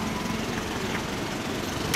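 A 2016 Suzuki GSX1300R Hayabusa motorcycle fitted with an LCI Parts exhaust runs at a steady idle, a low continuous engine rumble heard at moderate distance with no talk over it.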